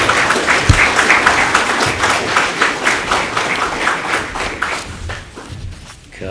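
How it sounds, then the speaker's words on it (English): Audience applause at a county candidates forum, a run of fairly close, rhythmic clapping with a few thumps that thins out and fades near the end. "Give a round of applause."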